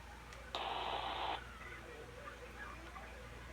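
A Baofeng UV-82 handheld radio on the 440 band hisses with a burst of loud static interference lasting just under a second, then falls back to a faint, steady noise floor.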